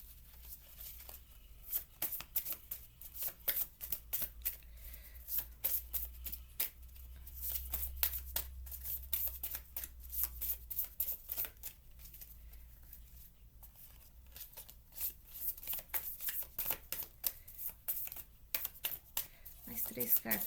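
Tarot cards being shuffled and handled in a reading, giving a run of soft, papery flicks and riffles at close range, continuous and fairly quiet with brief pauses.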